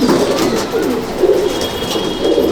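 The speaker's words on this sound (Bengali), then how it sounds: "দেখুন লালসিরা পাঞ্জাবি পায়রা।" Lalsira Punjabi pigeons coo up close, loud repeated rolling coos in a slow rhythmic sequence with no talking over them.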